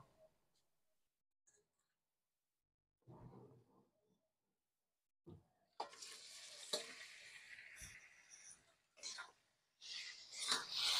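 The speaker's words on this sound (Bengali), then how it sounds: "এবারে আমি ধুয়ে রাখা চিকেনগুলো এর মধ্যে দিয়ে দেবো" Washed chicken goes into a pan of spices that have been slowly fried for the kaancha lonka chicken dish, setting off a loud, bright sizzle that flares in surges close by after a few quiet moments and soft talk.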